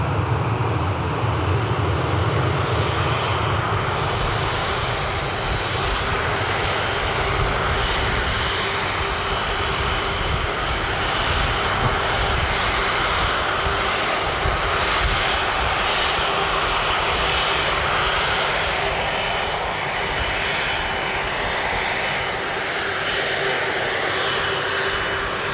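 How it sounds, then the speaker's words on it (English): A Ryanair jet airliner taxis in toward Terminal 3 at Manchester Airport, its engines a loud, steady whine and roar that holds without letup for the whole stretch, broad and constant with no voices. "there's the arriving Ryanair. Just taxiing in for Terminal 3."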